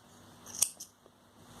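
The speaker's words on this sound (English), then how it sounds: "snip off both the yarns" Scissors snipping crochet yarn, one crisp close snip and then a fainter second click, quiet and alone against a low hum.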